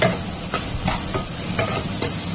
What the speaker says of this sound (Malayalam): ഞാൻ ഗ്യാസ് സിമ്മിലാണ് വെച്ചിരിക്കുന്നത് കേട്ടോ. അത് അവിടെ കിടന്ന് കുറച്ച് നല്ലോണം ഫ്രൈ ആവട്ടെ.